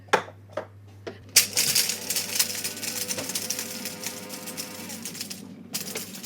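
A few sharp taps give way to a coffee grinder crushing freshly roasted beans, a loud gritty whirring grind that holds steady for several seconds before cutting off, followed by a couple of faint clicks.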